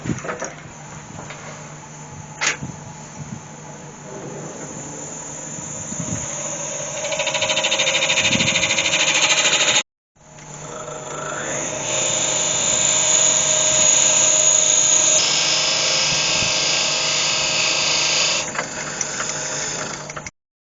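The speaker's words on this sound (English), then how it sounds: "I'll start off by going down through with a forcing bit" A forcing bit bores down into a spinning wooden honey pot on a wood lathe, a steady high whine and grinding that runs loud and continuous, dropping out briefly midway before the drilling resumes.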